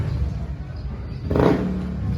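A Honda Beat V3 motor scooter engine idles with a low steady hum, then gives one short rev that swells and eases back down, heard close with no talk.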